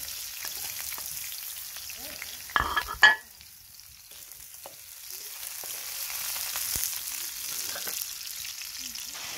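Onion and garlic frying in a pan make a soft, steady sizzle, broken partway through by a brief louder clatter as they are tipped in, and the hiss then swells gently.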